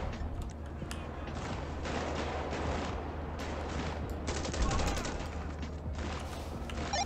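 Gunfire in the video game GTA 5, police patrol mod, as dense continuous bursts over a steady low rumble, loud and sustained throughout.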